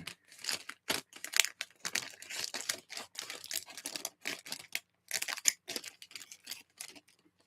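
Crinkly plastic rustles and crackles in short, irregular bursts as a small LEGO parts bag is slit open with scissors and handled up close, fairly quiet with no talking.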